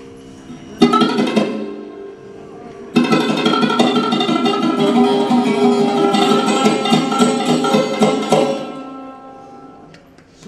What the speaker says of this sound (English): If I play sarod with fingertip, it will sound like this.